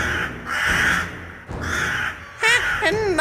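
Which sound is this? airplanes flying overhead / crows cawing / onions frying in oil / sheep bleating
crows cawing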